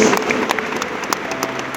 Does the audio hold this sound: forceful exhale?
no